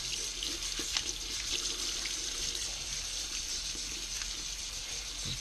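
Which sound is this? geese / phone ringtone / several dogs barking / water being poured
water being poured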